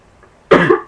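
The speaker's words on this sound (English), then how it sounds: "I keep coughing" A single loud, close cough bursting out after a brief quiet, with the start of another at the very end.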